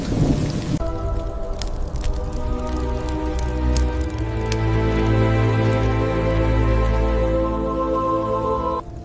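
Dense, steady downpour with rumbling low tones like distant thunder, building slightly in intensity and filling the whole clip without any voices.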